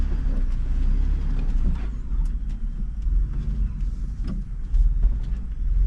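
An off-road vehicle crawls over rocks on a Holiday Hill trail, a steady low engine rumble with occasional knocks and thumps as a tire climbs onto a rock, close and continuous.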